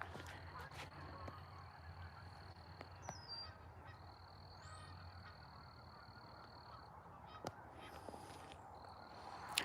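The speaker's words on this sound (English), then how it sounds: "The geese are pissed because I didn't give them any bread." Geese honk intermittently at a distance over a steady outdoor hum, with occasional sharp calls standing out from the background.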